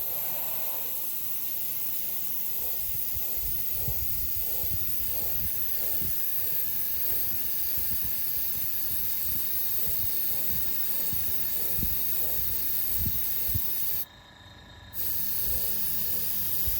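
Black paint sprayed over a stencil on a pinball playfield during restoration, a steady airy hiss with pulsing bursts that runs continuously and cuts out briefly near the end before resuming.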